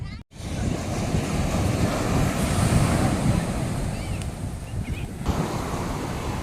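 Arabian Sea surf rolling onto Golden Sand Beach in Kerala, a steady loud wash of breaking waves with wind buffeting the microphone throughout.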